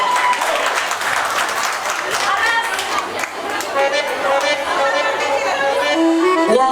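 Applause at a Turkmen circumcision celebration, a crowd clapping steadily while voices chatter and a sliding, melodic tone rises near the end.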